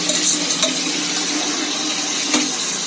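Chorchori cooking and being stirred in a pan in a home kitchen, a steady loud sizzle with scraping stir strokes and watery bubbling throughout, close up with no talk.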